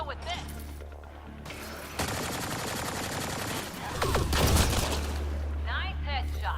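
Gunfire in Mass Effect Andromeda crackles in rapid automatic bursts that swell louder midway, mixed with game music and a voice speaking over the action.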